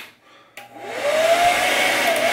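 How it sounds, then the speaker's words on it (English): A hair dryer set to low starts up after a soft click, building to a steady, close whirring blow with a faint rising whine, and runs on with no talking. "So all I do, I put the dryer on low."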